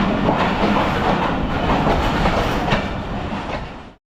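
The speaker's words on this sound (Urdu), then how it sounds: "اسی اثناء میں ریل گاڑی آئی اور حضور سوار ہو گئے" A passenger train runs steadily on rails between Lahore and Jhelum, with a loud continuous rumble and rhythmic wheel clatter that cuts off abruptly at the end.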